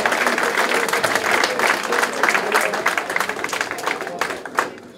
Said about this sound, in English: give both boxers a big round of applause